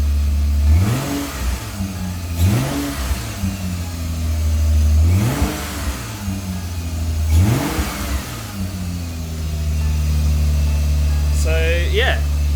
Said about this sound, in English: Give it a bit of gas.